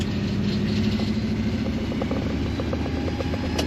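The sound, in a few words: car engine running after cam swap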